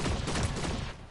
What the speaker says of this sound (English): There's more shooting at me.